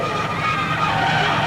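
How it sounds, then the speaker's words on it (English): On a speedway track, a race car that has lost a wheel grinds its bare brake rotor along the surface, producing a harsh, continuous metallic scraping screech. "Listen to the brake rotor."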